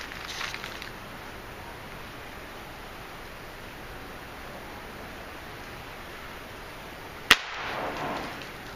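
A Mendoza PK 62 4.5 mm pellet pistol fires a single sharp crack about seven seconds in, standing alone against steady outdoor background hiss with faint rustling.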